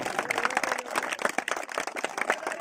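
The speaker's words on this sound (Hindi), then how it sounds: "तो एक बार जोरदार ताली बजा दो।" An audience at a cricket tournament prize ceremony claps together, a dense burst of applause that holds steady and moderately loud for a couple of seconds, with no talk over it.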